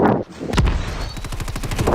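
Rapid gunfire in the mobile shooter Call of Duty Mobile: a sharp opening shot, then a fast, evenly spaced automatic burst of close, loud reports running to the end.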